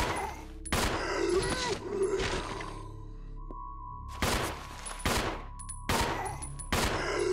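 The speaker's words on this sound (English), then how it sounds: "let's try to fish them off with a pistol." Pistol shots in the survival horror game Resident Evil Zero, several sharp loud reports spaced a second or so apart, with a sustained in-game tone and ambient game sound between them.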